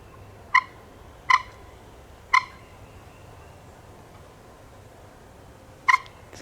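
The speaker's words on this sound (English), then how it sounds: "It's geese." Geese call far off across a windy landscape of thick woods and a long green field, four short honks spaced irregularly over a quiet, faint background.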